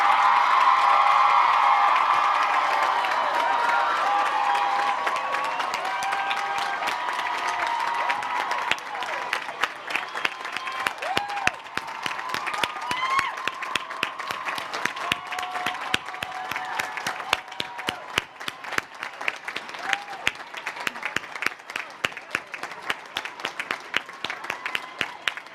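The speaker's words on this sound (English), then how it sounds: "You may now applaud as long and as loudly as you would like." A large college commencement crowd applauds and cheers, a dense, sustained roar of clapping with shouts and whoops that slowly thins into scattered claps as it goes on.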